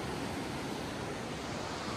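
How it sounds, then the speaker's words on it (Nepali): The Phoksundo river flows below a mountain trail in Nepal as a steady, distant broadband rush of water, continuous and even, with no voices. "तल फोक्सुन्डो खोला बगिरहेछ"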